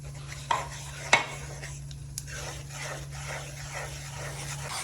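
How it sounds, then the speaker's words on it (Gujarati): Water chestnut flour roasting in hot ghee in a pan for methi pak, with a couple of sharp metal spoon scrapes and clinks against the pan over a low, steady background hum. "હવે એની અંદર આપણે સિંગોડાનો લોટ શેકીશું"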